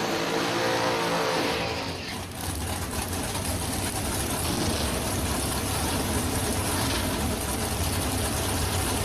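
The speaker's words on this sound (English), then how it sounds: "Camaro driver coming quick on the Mustang" A Camaro and a Ford Mustang roar down a drag strip, loud and close. A sustained engine drone with rising revs runs throughout, and the tone shifts briefly around the two-second mark.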